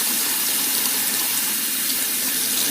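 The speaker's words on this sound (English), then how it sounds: "Just wash our hands a little bit." Tap water runs steadily and close for hands being washed at a sink while grilled chicken is prepared, a dense broadband hiss with no talk over it.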